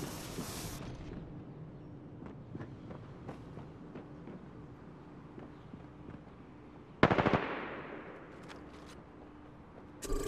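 Automatic weapon fire in the battle royale game Apex Legends on Xbox One, with a continuous rattle of distant shots through most of the stretch and a sharp, louder burst near the end, alone with no talk.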